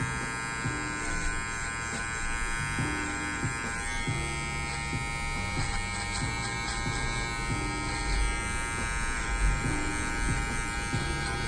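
A Wahl cordless detailer trimmer cuts hair with a steady, close electric buzz that keeps going without a break. The motor pitch dips slightly each time the blades push into the hair.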